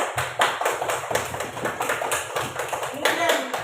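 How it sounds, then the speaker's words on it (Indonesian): A classroom of students claps for group 1, a dense, steady round of close applause from many hands, with children's voices mixed in. "Beri tepuk tangan untuk kelompok 1"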